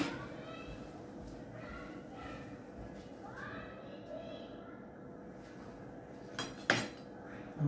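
A metal spoon clinks against dishes during a Shiva puja ritual, with soft scraping and a couple of sharper clinks near the end under quiet talking.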